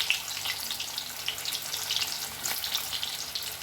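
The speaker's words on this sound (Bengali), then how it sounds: "আমি আলুগুলো ছেড়ে দিয়েছি, সাদা তেল দিয়েছি, তেলটা গরম হয়ে গেছে, আমি আলুগুলো ছেড়ে দিয়ে ভেজে নেব।" Potatoes fry in hot, lightly salted white oil, a faint, steady bubbling sizzle with a slightly watery, crackly texture and no talking.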